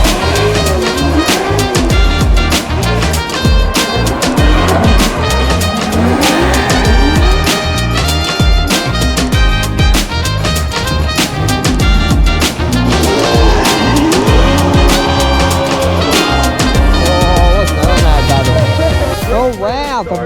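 Formula Drift cars race through the outside last corner at Long Beach, a continuous loud roar of engines with squealing tires that runs the whole time, with voices talking over it.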